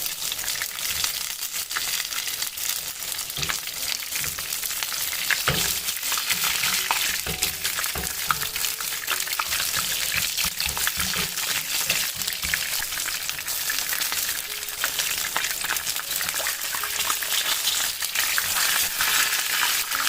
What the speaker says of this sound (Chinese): 然后再把鸡排放下去，正反面煎炸20秒，总共40秒就行了。